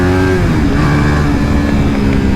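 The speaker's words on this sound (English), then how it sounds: "I have to rev match this baby or else the clutch is not going to like me." A KTM RC390 race motorcycle engine blips and revs sharply on a downshift, rev matching without a slipper clutch on a track, a loud, close, rising and falling engine whine filling the short moment alone.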